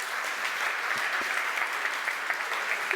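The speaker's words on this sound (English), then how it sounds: "please give a warm round of applause to Cassie Evans" A conference audience applauds a speaker, dense, even clapping from a large crowd that holds steady throughout with no voices over it.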